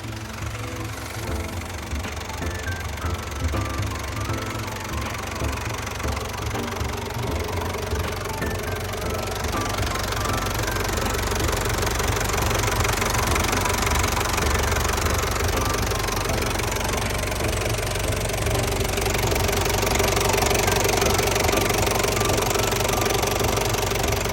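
A Hino W04D diesel engine on a Tadano TR-100M-1 crane runs steadily nearby with a low knocking rumble and vibration, growing slightly louder toward the end. No one speaks.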